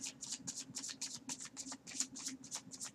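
Tarot cards being shuffled in quick, steady riffles, a soft rapid flutter of snapping edges, close and quiet, with no talking.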